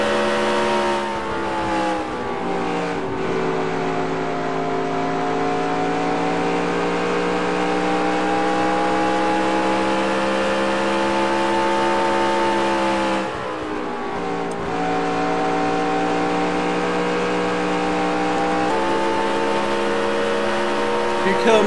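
Race car engines in NASCAR Racing 2003 at Iowa Speedway drone steadily and loudly throughout, a dense sustained whine from several cars running together, with a brief dip in pitch midway before the pack roars on.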